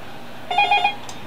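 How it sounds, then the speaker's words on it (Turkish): A telephone rings once in a short, bright electronic trill over a steady background hum, heard during a PES 15 football game session. "telefon çaldı, bir dakika"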